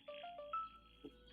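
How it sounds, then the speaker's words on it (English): A phone alarm chimes in a short run of bright electronic tones, fairly faint and close, with a brief soft knock near the end and no talking. "that was my alarm."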